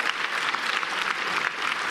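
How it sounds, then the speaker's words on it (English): Dense, even applause from an awards ceremony audience, a steady wash of many hands clapping without a break. "Can we just give another round of applause"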